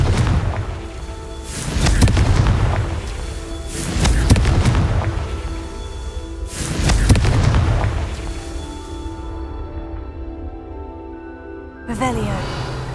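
Three heavy Confringo blasting-spell explosions boom out in Hogwarts Legacy, each a deep thudding burst with a rolling tail, spaced a couple of seconds apart over a low ambient game score.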